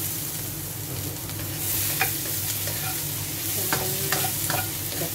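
Shrimp pancit canton noodles stir-fried in a hot pan, giving a steady close sizzle with scattered scrapes and taps of a utensil, no voices.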